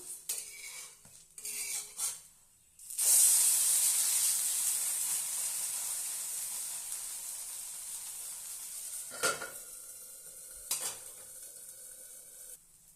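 A moong dal and ragi bun dosa on a hot pan: a few utensil knocks, then a bright hiss of sizzling that starts abruptly and slowly fades, with two short scraping taps near the end.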